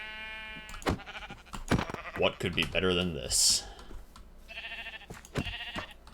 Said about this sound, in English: Bludgeoning sheep to death with a wooden pickaxe.